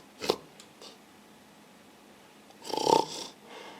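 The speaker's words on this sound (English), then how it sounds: "He's snoring like a mountain bear." A man snores aboard a passenger plane bound for Iraq, two rasping snores close by, one short at the start and a longer, louder one near the end, with quiet cabin hum between.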